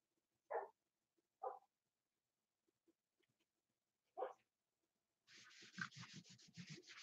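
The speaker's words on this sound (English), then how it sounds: "You can hear the dog, his dogs." Dogs bark in the background, three short, separate barks with quiet gaps between them. A rhythmic rubbing, scraping noise then starts near the end.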